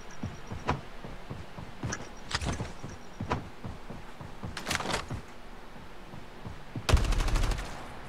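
Gunfire in a battle royale shooter: scattered distant shots, a few quick bursts and a closer rapid volley near the end, fairly faint with gaps between exchanges.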